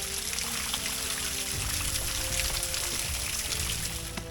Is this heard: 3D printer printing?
no